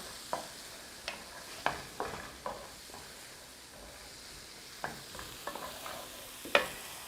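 A spoon mixing thyme into crab cake mixture in a bowl, soft close scraping and light taps at irregular intervals, fairly faint with no talk.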